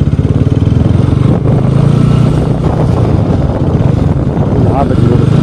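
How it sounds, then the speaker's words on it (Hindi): A Bajaj Pulsar RS200 BS6 motorcycle engine revs up against its RPM limiter, a loud, close, rapidly pulsing buzz that stutters rhythmically as the limiter cuts in, running continuously with a brief dip midway. "और ये आरपीएम लिमिटर देखने को मिल जाता है आपको यहाँ पर"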